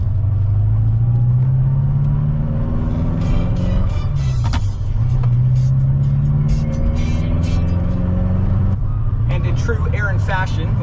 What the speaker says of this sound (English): that's why this car fires right up as soon as you turn the key